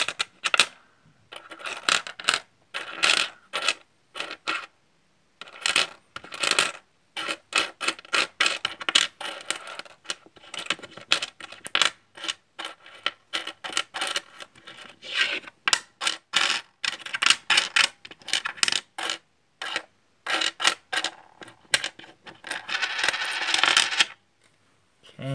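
Coins from bank rolls are picked through and sorted by hand, with Canadian coins among them: dense bursts of clinking and jingling metal, close and fairly loud, coming in irregular clusters with brief pauses.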